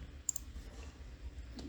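A single computer mouse click, a short faint tick close by in a quiet room, with a couple of softer clicks after it.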